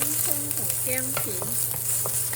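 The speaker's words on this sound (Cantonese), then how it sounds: "起鑊，將啲豬肉甩落去先" Diced pork hitting a hot wok and being stir-fried: steady bright sizzling with quick scraping strokes of the spatula against the metal, close up and continuous.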